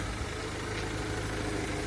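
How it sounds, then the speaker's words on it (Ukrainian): Renault Master van with about 169,000 km idles steadily at close range, a low, even engine rumble running without a break and with no talk over it. "Зараз в даний момент мотор працює"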